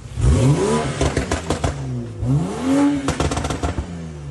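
A BMW 535 with all-wheel drive is revved twice. Each loud, close blip swells and falls, with mechanical clatter between the revs and no speech.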